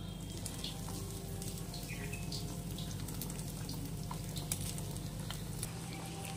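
Soaked, squeezed soybeans fry in hot oil in a kadai, a steady dense sizzle and crackle with small pops, close and continuous with no voices.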